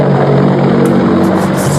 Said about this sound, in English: Helicopter music.